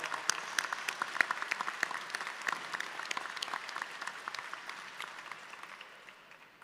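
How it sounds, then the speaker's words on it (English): Applause at a graduation convocation ceremony, a dense crowd clapping steadily at moderate volume, then thinning and fading toward the end. "Please join me in recognizing our special guest, marshals, gamelan bearers,"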